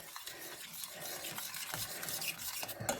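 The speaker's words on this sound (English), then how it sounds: "So stir that through." A spoon stirs milk into warm soup in a pot, a soft steady scraping and swishing with faint gentle sizzling beneath, quiet and close, no talking.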